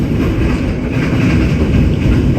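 Motis Utara passenger train running on rails toward Rangkasbitung, a steady loud rumble with dense low roar and faint rattling, heard close from on board.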